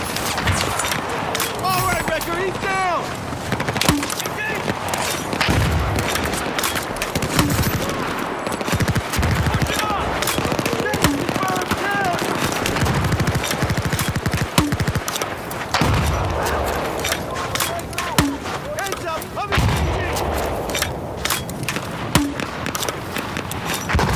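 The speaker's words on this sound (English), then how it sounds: "Lempar granat launcher nih guys." A Battlefield 4 match on Baku rattles with dense gunfire and automatic bursts, punctuated by heavier launcher thumps, nonstop and loud, while someone speaks over the combat throughout.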